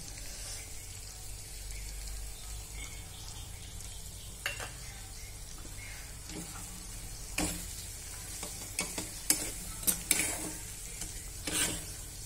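Masala spices fry in oil for spiced eggplant, a low continuous sizzle close by, punctuated by scattered stirring scrapes and sharp utensil clicks that grow more frequent toward the end.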